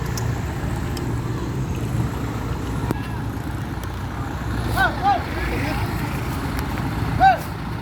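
A tour bus arrives in congested traffic with a low engine rumble and the hiss of an air brake, and other vehicles idle nearby as someone talks over the scene.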